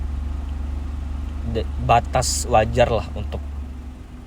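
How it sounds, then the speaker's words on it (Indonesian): A Daihatsu Ayla 1.2 three-cylinder engine running with a steady, low, throbbing hum that carries on evenly beneath someone talking close by. "suaranya tuh khas banget 3 silinder"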